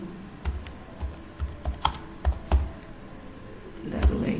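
Typing on a computer keyboard while entering chart data in Microsoft Word: short bursts of close, light key clicks in an irregular rhythm, with a brief pause before a final cluster of keystrokes.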